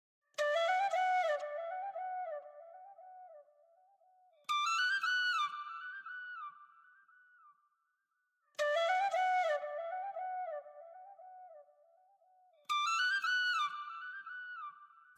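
A sampled flute run pitched up one octave plays alone in four repeating phrases, each opening with quick bright trills and then sliding down into a long held tone that fades, with short silent gaps between phrases.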